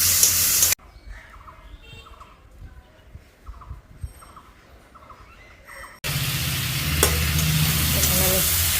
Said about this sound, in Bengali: দেখো এখানে আমি বরবটি আর ওই যে উচ্ছে করলা দিয়ে ভাজছি একসঙ্গে